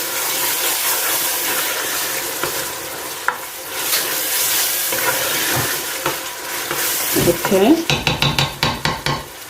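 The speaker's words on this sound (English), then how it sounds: "don't forget to fry your tomato on a medium heat" Tomatoes frying in a pot on medium heat for a turkey stew, with a steady soft sizzle and stirring scrapes, then a run of sharp clanking knocks of a utensil against the pot near the end; one brief spoken word.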